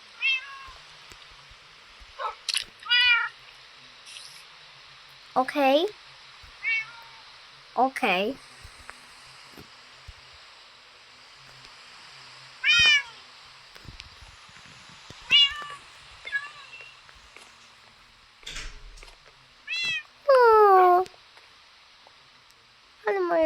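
Several cats in Minecraft meow in separate short calls, some rising and wavering, spread across the clip, with a person briefly speaking between them.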